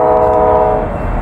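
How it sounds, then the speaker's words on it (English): An eastbound freight train on a CSX or Norfolk Southern line near Sharonville at night sounds its horn loudly and close by, a sustained chord over a low rumble. "we got a eastbound train here. Coming up the line"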